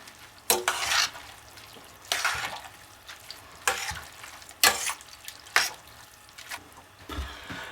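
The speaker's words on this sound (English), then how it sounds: "We're just going to toss it together and get it all covered with the sauce." Cooked spaghetti noodles tossed through a creamy white sauce in a hot pan for Mexican white spaghetti: several separate wet, sizzling stirring swishes spaced about a second apart, close and moderately loud.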